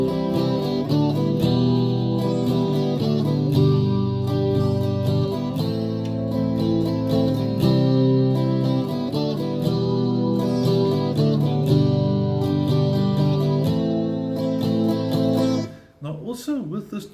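Strummed chords play the rhythm pattern of a song, a relaxed, steady strumming groove that continues for about sixteen seconds before stopping abruptly.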